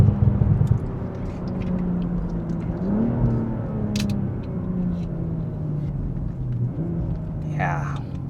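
BMW M340i sedan, 285 kW and 500 Nm, its engine note a steady low drone with two rising pulls as it gathers speed, heard from inside the car over continuous road rumble.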